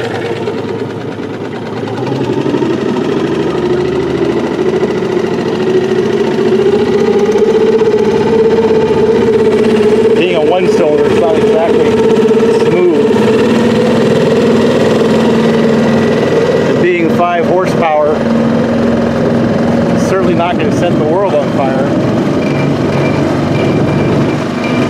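A small Tohatsu 5hp four-stroke outboard motor idles low and steady with a continuous droning hum, a few brief knocks and clatters breaking in midway.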